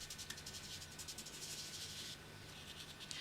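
Pastel being blended on paper, a soft dry rhythmic rubbing with quick repeated strokes, close and quiet, with no talk over it.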